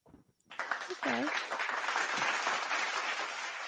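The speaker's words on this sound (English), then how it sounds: "It's a hand clap." Sustained hand-clap applause from a studio crowd during a live morning show, starting suddenly and holding steady at a lively level while a voice speaks briefly near the start.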